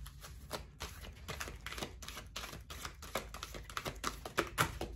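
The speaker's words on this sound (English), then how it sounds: "Get a good shuffle." A new, stiff deck of playing cards being shuffled, a rapid run of crisp, clicking flutters in quick bursts with brief pauses, close and fairly quiet.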